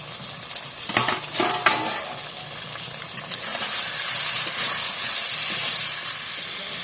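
Braising meat in a pot being stirred after the lid comes off, with scraping spoon strokes and clinks against the metal early on, then a steady loud sizzle and steamy hiss, close up and without talk.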